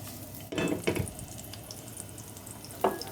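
Chopped onion dropped into a pan of hot vegetable oil, giving a brief sizzling burst, then a low steady fry with a few stirring scrapes and a second sizzle near the end.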